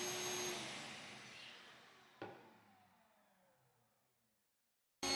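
A dust collection vacuum at a router table used for cutting MDF whooshes loudly, then winds down and fades steadily over a few seconds into near silence before a brief burst at the very end.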